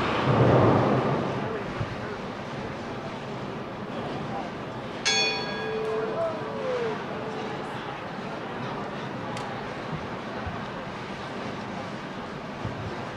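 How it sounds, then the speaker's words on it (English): A starting bell rings once at a women's bowling championship team event, a single clear bright tone that fades over a couple of seconds above steady crowd and lane noise. "the starting bell here for this 11 a.m. team event at the 2013 USBC Women's Championships"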